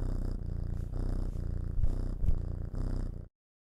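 A cat purrs steadily and up close while getting head scratches, a low rhythmic rumble that swells with each breath cycle, then cuts off.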